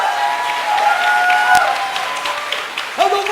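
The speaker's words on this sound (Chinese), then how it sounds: "用掌声献给耶稣。" A church congregation at a Saturday worship service bursts into sustained applause, a full room of clapping with steady keyboard tones ringing underneath.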